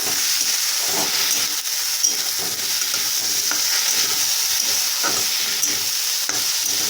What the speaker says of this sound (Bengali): ডালটা দিয়ে এখন একদম ভালো করে ভেজে নেব